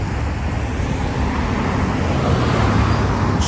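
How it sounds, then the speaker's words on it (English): Steady street traffic rushes past on a city road, a continuous loud broadband roar of passing cars with no gaps and no talking. "As soon as this traffic passes by"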